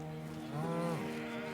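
A single low moo from cattle on a Northern Ireland farm, a fairly close, drawn-out bellow rising and falling over about half a second, with quiet outdoor background and no talk.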